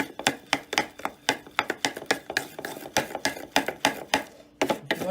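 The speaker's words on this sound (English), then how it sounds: "And we just stir it." A spoon clinks rapidly against a small bowl while stirring a little mixture for a cinnamon apple pie, about twenty quick, close, rhythmic taps and scrapes spread over five seconds.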